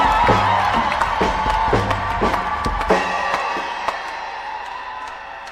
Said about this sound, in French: Par vos applaudissements, manifestez donc votre joie et votre allégresse.